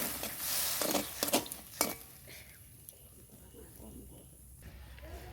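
A spoon stirs sugar into water in a pot for motichur laddu syrup, with several sharp clanks against the metal early on, then quieter swirling, all fairly faint.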